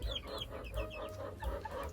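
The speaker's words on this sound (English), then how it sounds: "I think Meg might be a rooster." Backyard coop chickens, including a Barred Rock, cluck and chatter in a steady run of short calls, fairly close, over a low rumble of background noise with no talking.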